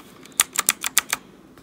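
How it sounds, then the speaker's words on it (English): Keystrokes on a mechanical keyboard with switches, about seven sharp clicky taps in a quick uneven burst, close and clear with no talking. "So this is a mechanical keyboard I own."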